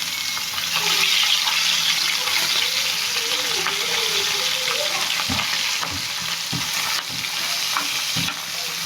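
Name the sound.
Gulsha fish frying in a pan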